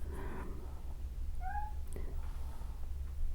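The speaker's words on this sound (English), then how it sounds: "My little cat is talking to me." A small cat meows once, a short rising call close to the microphone against a low steady background hum, with no speech.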